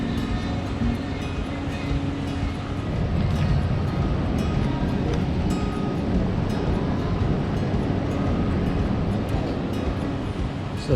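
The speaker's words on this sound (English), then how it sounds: "So this is the BNI Sudirman train station." Steady loud rumble of a train at BNI Sudirman station in Jakarta, continuous rail and wheel noise filling the whole stretch with no break.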